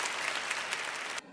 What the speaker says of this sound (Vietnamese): một tràng pháo tay lấy tinh thần cho bạn ấy ơi